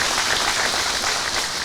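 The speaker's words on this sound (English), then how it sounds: "Give him a round of applause." Audience applauds at a live dealer meeting, a dense, steady wash of clapping from a large crowd that fills the whole short stretch at an even, loud level.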